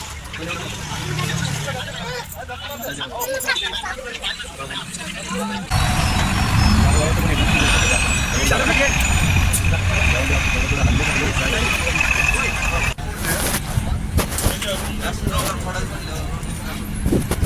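Vehicles and buses sit jammed together on a ghat road under construction, a steady mix of idling truck and bus engines close by, with loud rumbling that swells midway and people talking over it.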